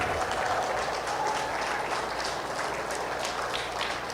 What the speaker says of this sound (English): go ahead and give them one more big round of applause.